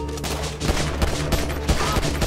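Loud, sustained gunfire from Grand Theft Auto V: rapid overlapping shots and bursts fill the whole stretch with no pauses, close and heavy, and no voices are heard.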